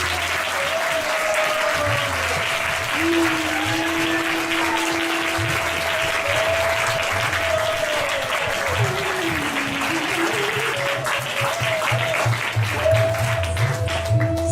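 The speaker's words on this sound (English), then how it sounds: "So please give them another round of applause." Sustained audience applause fills the whole stretch, with a steady tone and some low murmuring sounds underneath the clapping.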